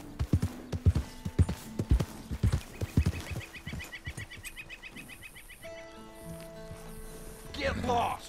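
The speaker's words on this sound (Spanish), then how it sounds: "Ay, el caballo se me asustó" Hooves clip-clop rapidly in an uneven burst, then a startled horse whinnies briefly near the end over game music and ambient tones in Red Dead Redemption 2.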